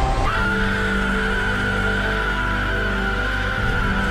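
A woman's long, sustained scream in a dramatic scene from The Witcher series, loud and unbroken over a low rumbling background.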